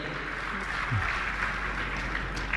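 At a religious discourse gathering, the audience gives fairly faint, continuous applause, a soft hiss of clapping with a voice heard faintly beneath it.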